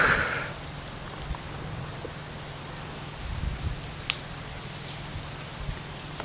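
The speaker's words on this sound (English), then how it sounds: "so you can hear the rain more" Steady rain falling outdoors in Tokyo, a dense even hiss of drops with a few sharper nearby splashes, alone with no talking.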